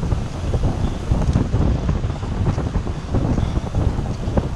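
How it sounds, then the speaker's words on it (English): Strong wind buffets the microphone while riding a trike on a 100 km ride, a steady, loud rushing roar with gusty swells and no voices. "A little bit breezy."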